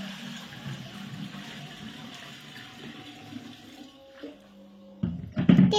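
Tap water pours steadily into a metal pot with a soft, continuous rush. Near the end there is a brief louder clatter and splash.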